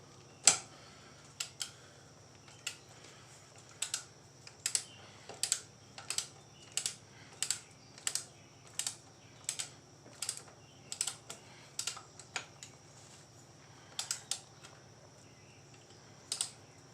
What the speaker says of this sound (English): we're going to go ahead and torque this bolt the same as the other side to 18 foot-pounds.